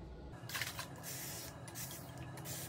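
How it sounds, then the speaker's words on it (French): Water is sprayed onto hair ahead of combing, giving a few soft, hissing bursts close by, the first and strongest near the start, with no talking. "je vais mettre de l'eau sur cette partie un petit peu pour repeigner mes cheveux"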